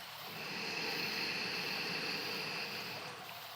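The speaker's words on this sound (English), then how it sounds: "So, the Ujjayi breath, it sounds like the ocean." A soft, steady breathy hiss of ujjayi yoga breathing from the throat, drawn out evenly like distant surf, with no talking.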